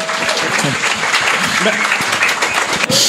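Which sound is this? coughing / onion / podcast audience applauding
podcast audience applauding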